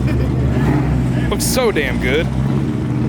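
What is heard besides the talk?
muscle car engine chop, Camaro ZL1 1LE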